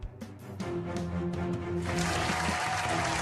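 Applause from a crowd swells and thickens into steady clapping during a virtual sports trivia game in a bar, after some brief thumps at the start.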